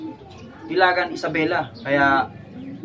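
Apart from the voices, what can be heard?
racing pigeons cooing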